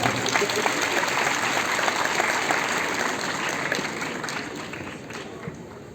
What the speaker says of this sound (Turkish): Alkışlar mıyız?